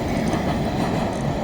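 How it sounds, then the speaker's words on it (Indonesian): A passenger train crossing the long Cikubang railway bridge, a loud, steady rumbling roar of wheels and cars passing close by, continuous throughout with no talk. "Nah ini dia ada kereta lewat dari arah Bandung ini. Nah ini dia melintasi jembatan."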